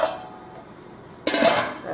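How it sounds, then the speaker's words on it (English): A lid is set back onto a cooking pot with a single sharp metallic clatter, close and loud, following a quiet stretch of low background hiss. "now I'm going to cover this back up"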